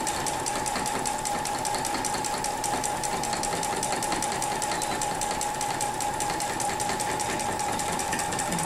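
A sewing machine runs continuously at speed while free motion quilting radiating arcs, a dense rapid mechanical stitching hum that stays loud and even throughout.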